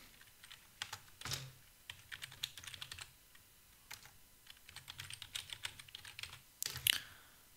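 Password being typed on a computer keyboard during server setup: two bursts of quick, close key clicks with irregular rhythm and a short pause between them, no voices.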